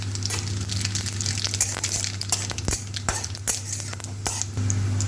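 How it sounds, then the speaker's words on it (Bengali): Bay leaves, whole cumin and radhuni spice sizzle in hot mustard oil in a karahi, a steady close crackle and hiss with scattered sharp pops, under a constant low hum. "কড়াইতে সর্ষের তেল গরম করে দুটো তেজপাতা দিয়ে দিলাম, আস্ত জিরে দিয়ে দিলাম, রাঁধুনি বাকল দিয়ে দিলাম"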